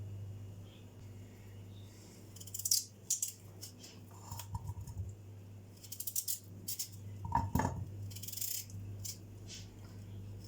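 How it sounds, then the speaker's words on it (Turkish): A knife dices three large potatoes into cubes on a cutting board in a Turkish home kitchen, giving bursts of quick, sharp chopping taps with short pauses between them over a low background hum. "3 adet büyük boy patates kullanacağım. Önce onları küp küp doğrayalım."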